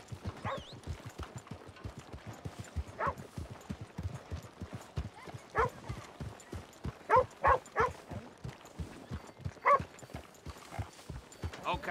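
Horses' hooves clip-clop at a steady walking rhythm on a road in Red Dead Redemption 2, fairly quiet, with scattered faint chirps and brief sounds over the top.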